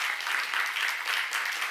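A church congregation at a seminar claps together in sustained, dense applause, a loud, continuous patter of many hands close by with no break.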